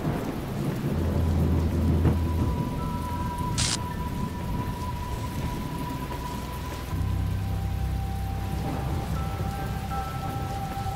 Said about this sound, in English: I don't like this rain at all.